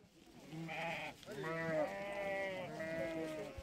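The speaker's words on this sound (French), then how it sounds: "il est temps pour les moutons de reprendre la route, direction la foire" Sheep gathered in an enclosure before heading to a fair bleat loudly and close by, with several overlapping calls running almost continuously and a brief dip partway through.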